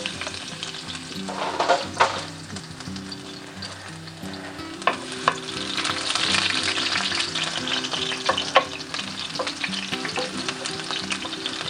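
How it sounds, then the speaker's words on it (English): Garlic sauteing in extra virgin olive oil in a pan, the base for pork tenderloin cutlets: a continuous close sizzle with scattered crackles and pops and occasional scrapes of stirring. "we're going to saute this garlic"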